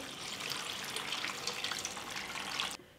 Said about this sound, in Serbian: U šerpu sipam 3 litre vode.